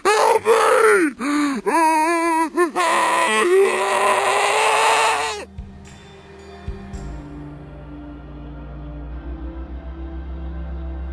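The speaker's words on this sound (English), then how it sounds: "one particular enemy still manages to terrify gamers worldwide with its freaky wailing noise" A headcrab zombie's wail from a video game is played backwards, producing eerie, warped groaning cries that rise and fall. Midway it gives way to a quieter, lower rumbling drone.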